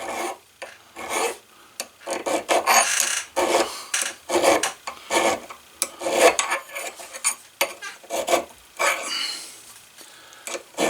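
A budget leathercraft hammer face is sanded by hand with fine sandpaper, producing repeated rhythmic rasping strokes in short bursts with brief pauses, close and moderately loud.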